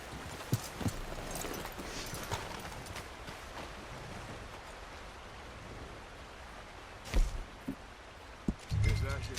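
Horse hooves clip-clop in Red Dead Redemption 2 over a soft rain-like hiss, a few scattered hoofbeats and thumps, fairly quiet and close, with louder knocks near the end.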